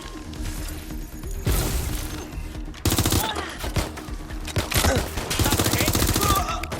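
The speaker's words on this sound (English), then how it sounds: "I'm getting shot at!" Sustained game gunfire from Watch Dogs: Legion, with dense bursts and rapid automatic volleys that swell and recede across the stretch and never fully stop.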